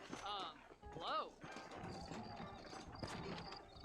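Horses in the Red Dead Redemption video game clip-clop steadily at close range, with a brief whinny early on, all under ongoing talk and background music.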